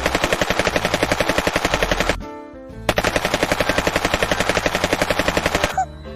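Rapid automatic gunfire and a helicopter in a Minecraft battle, loud sustained bursts of machine-gun fire broken by a short pause, then resuming before cutting off.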